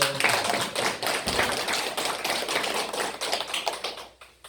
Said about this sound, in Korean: 박수 한번 올릴까요?